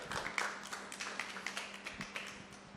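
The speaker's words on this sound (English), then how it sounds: "give a round of applause to Jermain" A morning creative-community audience claps to welcome a speaker, a thin, scattered round of hand claps at moderate distance that quickly tapers off.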